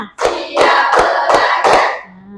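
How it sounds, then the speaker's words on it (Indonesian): A class of schoolchildren claps in a counting routine, a few loud, close claps in an even slow rhythm, each one a crisp burst, ending in a brief quiet tail. "Tepuk satu, tepuk dua, tepuk tiga, tepuk empat, tepuk lima."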